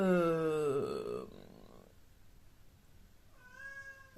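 A cat meows loudly and close at first, a long drawn-out cry, then a quieter second meow follows after a pause in an otherwise quiet indoor room.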